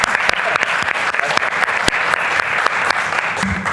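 Loud, steady audience applause at an institutional panel opening on democracy, dense clapping sustained throughout with a few sharper individual claps standing out.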